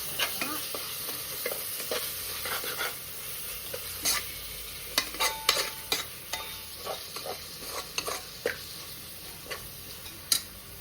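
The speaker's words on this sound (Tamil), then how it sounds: "இப்போ இஞ்சி பூண்டு பேஸ்ட் போட்டாச்சு. நல்லா வதக்கணும்." Ginger garlic paste sautéing for South Indian chicken biryani, a steady close sizzle with frequent sharp ticks and clicks of a spoon stirring against the pot, no talk.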